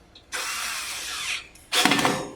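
A power drill driving mounting screws for an electronic lock hook: two bursts of loud whirring, a long steady run followed after a brief pause by a shorter, grittier one, with no talk.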